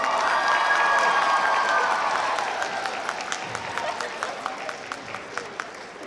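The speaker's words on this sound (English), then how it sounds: "round of applause, because this is skit number 17, the Sweetheart Stars, PA Idols." A convention masquerade audience applauds and cheers loudly at first, then the crowd noise fades and scattered individual claps linger with a few voices.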